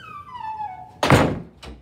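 A door swings shut with a solid thunk in a physics lecture room, followed by a softer second knock, after a few faint whistling tones.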